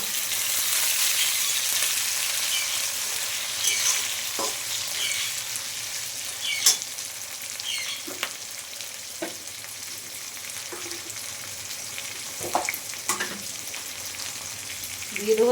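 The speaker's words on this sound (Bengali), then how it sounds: "এখন দিয়ে দিচ্ছি বন্ধুরা টমাটোর কুচি।" Chopped tomato fries with chicken in a pan, giving a bright, steady sizzle close by, with scattered clicks and scrapes of stirring throughout.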